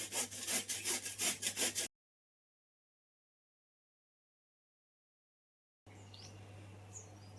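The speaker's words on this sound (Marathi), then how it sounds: "पपई मी असं किसून घेतलंय बघा" Raw papaya being grated by hand into shreds for chutney, a loud rhythmic rasping of repeated strokes near the mic, then a long silence before quieter outdoor ambience with faint birds.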